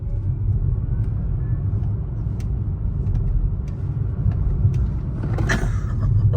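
A steady, heavy engine rumble fills the clip, a 1,000 HP BMW M4 driving at speed with a constant low roar and a brief rise near the end.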